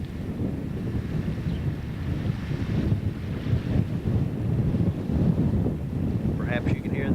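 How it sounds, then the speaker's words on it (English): Lake water rolling up onto a beach in a northwest wind, a steady low rush of waves heavily buffeted by wind noise on the microphone, continuous and fairly close throughout. "Perhaps you can hear the water as it rolls up on the beach from the northwest wind that's blowing today"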